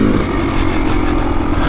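Kawasaki KX two-stroke dirt bike engine running steadily on a mountain singletrack trail, a loud, raspy buzzing exhaust held continuously close by for under two seconds.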